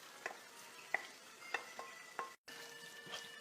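Okra, onions and cooked meat stirred together in a pot for bhindi gosht, with a soft background sizzle and several sharp spoon scrapes and clinks, quiet and close, no talking.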